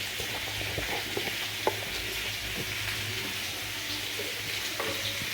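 Fish fries in a pan with a continuous crackling sizzle, dotted with small pops and occasional stirring clatter, steady and close throughout without talking.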